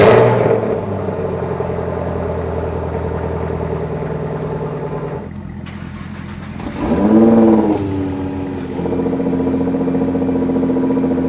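A Nissan GT-R engine fires on a cold start and settles into a steady, rumbling idle, then a short, sharp rev swells and fades before the idle resumes.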